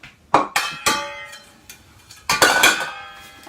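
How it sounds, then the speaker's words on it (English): A metal pan and a pasta strainer are handled close by, giving sharp clanks and clinks in a loose series, with a louder cluster of rattling metallic knocks near the end. "I've got a pan and the pasta strainer"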